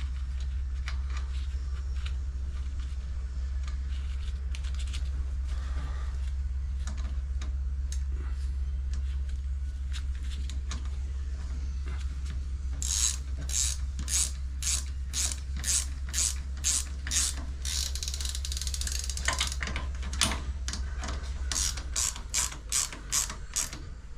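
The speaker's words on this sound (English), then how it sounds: "So this thing just has a lock nut that goes on there. I'll tighten that down right now." A ratchet clicks in quick bursts while tightening a lock nut on a bike, with faster rapid runs of ticking later over a low steady hum.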